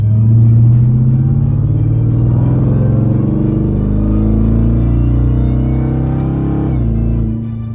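A Ram TRX pickup truck engine with an aftermarket intake, shifted manually, rumbles loud and deep, holding a heavy throaty drone that shifts in pitch as the revs change, then eases slightly at the end.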